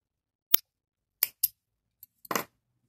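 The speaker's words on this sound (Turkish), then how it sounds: "Bir zincir çektim ve ipimi kesiyorum." Scissors snipping crochet yarn after a chain is finished for a crocheted phone bag, several short crisp clicks and snips spaced apart in an otherwise silent room.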